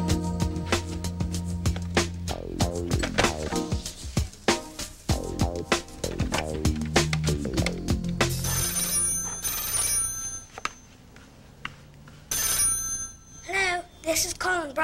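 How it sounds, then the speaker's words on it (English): A telephone rings repeatedly in a steady electronic ringtone pattern while placing a call, followed by a voice answering and brief talk in the closing seconds. "Let's ring up that phone number first."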